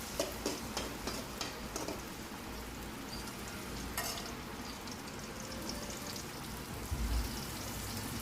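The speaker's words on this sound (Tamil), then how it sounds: "பக்கத்தில் வெங்காயம் வதங்கிட்டுருக்குது." Onions fry in oil in a kadai with a faint, steady crackling sizzle and scattered light ticks, close by and without talk.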